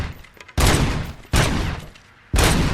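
Gunfire at a shooting range in Robocop Rogue City, three loud, sharp shots spaced roughly a second apart, each followed by a short decaying tail.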